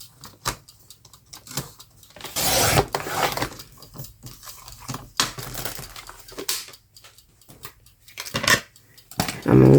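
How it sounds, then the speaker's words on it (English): Scissors snip through paper in short crisp bursts, separated by pauses, quiet handling noises and rustling close by. "So I'm going to cut it like a little bit over 1 inch."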